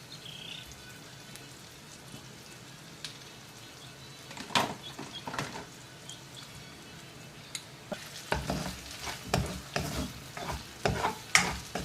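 Ground pork sizzling in a pan with oyster sauce, a quiet simmering hiss that gives way to repeated scraping and stirring strokes, growing louder and busier toward the end, no talk.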